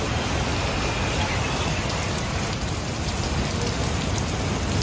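Heavy rain and wind lash a flooded beachside area in Davao Province, making a dense, unbroken roar of rainfall drumming on surfaces at constant loudness.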